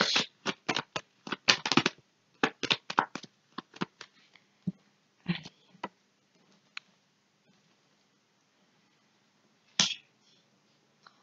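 Tarot cards shuffled for a reading: quick rapid bursts of riffling and flicking close by, clustered in the first few seconds, then a few scattered slaps and a final sharp card snap, no talk.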